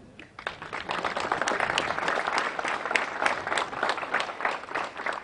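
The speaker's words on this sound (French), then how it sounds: "Nous allons pouvoir applaudir nos drapeaux." A crowd applauds the flags at an outdoor commemorative ceremony at a monument in Louvigny, France, a steady patter of many hands clapping at moderate distance for several seconds.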